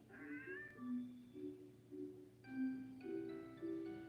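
A cartoon cat in the Wii game Petz Catz 2 meows again and again, each call a clear, tonal mew with no talking over it.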